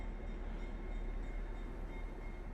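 A train on the Northern Central Railroad line near Glen Rock rumbles steadily at a distance, a low, even, faint roar with no voices.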